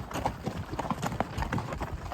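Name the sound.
horses' hooves clip-clopping on ride into camp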